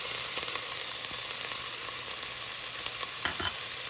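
Carrots, celery and onions sizzle in a soup pot, a constant bright hiss with light stirring scrapes and a few pops near the end, close and alone with no voices.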